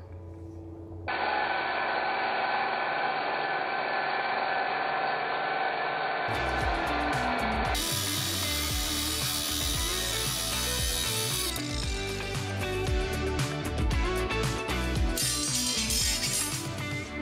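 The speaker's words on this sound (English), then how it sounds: "We're currently cutting all of the rebar so that we can put that up now for the stem wall." Steel rebar for a cabin foundation stem wall is cut with a powered cutter, producing a dense, continuous grinding and ratcheting mechanical clatter that shifts in pitch and texture in several distinct stages, loud and without talk.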